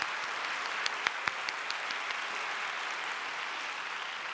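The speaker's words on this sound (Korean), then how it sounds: "권호준 형제님 감사의 박수 드리면 좋을 것 같습니다." A young adults' church group applauds in thanks after a member's sharing, a steady even wash of clapping with a few sharper individual claps early on, moderately loud and continuous.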